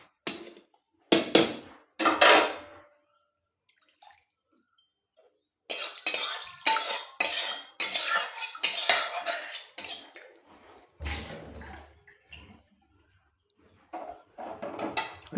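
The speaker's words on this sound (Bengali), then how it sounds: "জায়গাতে ঢেলে কড়াইটা ভালো করে ধুয়ে নিচ্ছি।" A metal kadai being scrubbed and rinsed in a kitchen after dal has been poured out, heard as irregular bursts of scraping, clattering and splashing separated by quiet gaps, with no voices.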